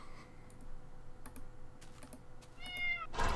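A cat in Minecraft gives a short meow near the end, following a stretch of quick keyboard clicks and light tapping, all fairly quiet.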